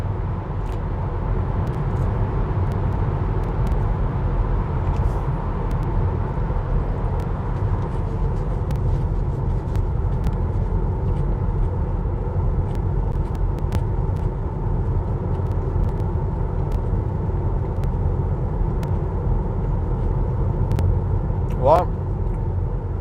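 A Tesla Model 3 SR+ cruising on a highway at about 90, giving a steady, loud road and tyre rumble with constant wind noise throughout and no letup.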